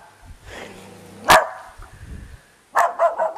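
Dog barking at the back of a house lot in Lehigh Acres, Florida: one sharp bark after a soft whine, then a quick burst of several barks, fairly close and clear.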